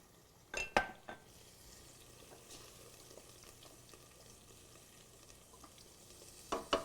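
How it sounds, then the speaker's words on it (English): A spoon stirs stock in a pressure cooker. A few scraping clanks of metal against metal come at the start and again at the end, with a soft bubbling hiss in between. No one speaks. "We give that a stir, and we're going to just bring that up to a simmer."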